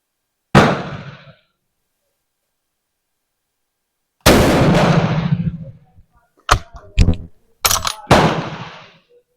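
A Madsen M47 bolt-action rifle fires sharp, loud reports outdoors: one shot, a long pause, then a second shot with a rolling tail, followed by clattering bolt handling and rapid mechanical clicks.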